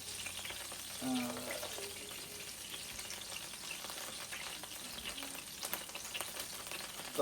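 Ham slices frying in a pan while an ultimate burger is cooked, a quiet steady sizzle and crackle with faint stirring scrapes, close by and without talk.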